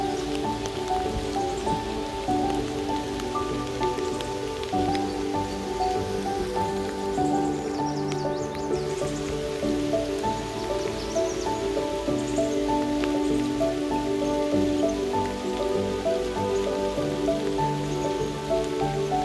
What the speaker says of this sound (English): The rain started dying down.